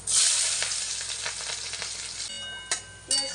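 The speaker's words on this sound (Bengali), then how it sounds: "আর সাথে দিয়ে দিচ্ছি পেঁয়াজগুলো" Onions added to hot oil with cumin hiss loudly at first, then keep frying with a steady sizzle as a spatula scrapes and stirs through them, ending in a couple of sharp clinks against the pan.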